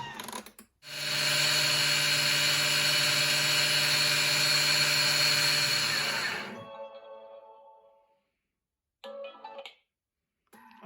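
A food processor mills raw sugar at speed 10, a loud high whirring motor that starts abruptly, runs steadily for several seconds, then winds down, followed by a brief clatter.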